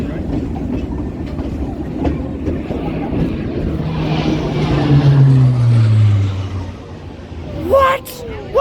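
Steam locomotive D&RGW #484 hauls its train on the Cumbres and Toltec line, a loud continuous rumble and rattle of cars on rails heard from on board, with a sharp squeal near the end.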